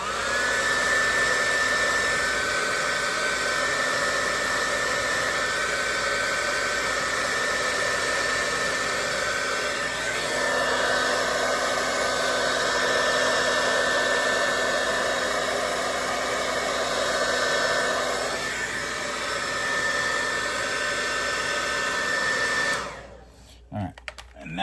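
A heat gun blows steadily on body trim of a C8 Corvette, a loud continuous whirring hiss with a whine that holds for over twenty seconds before cutting off, followed by brief handling noises.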